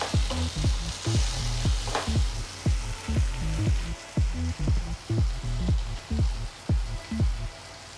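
Chopped chillies and tomato sizzle with fried onion in a pan, a loud frying hiss broken by a regular rhythm of spatula knocks and stirring strokes, close and without talk.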